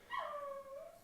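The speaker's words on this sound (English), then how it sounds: "my dog is going crazy," One short, high yip from an excited dog, a quick rising-then-falling cry heard close and fairly faint, alone with no other sound.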